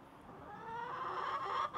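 Chickens cluck near their coop in a continuous, fairly close run of calls that swells slightly before a brief dip at the end, with no talking.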